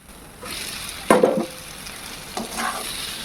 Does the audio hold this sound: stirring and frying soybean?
yes